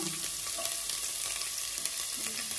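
Onions go into hot oil for Rayalaseema-style uggani, a puffed rice dish, and fry with a steady, close sizzle and crackle, with light stirring scrapes throughout.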